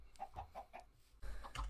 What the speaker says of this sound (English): Now chickens are good because they lay eggs,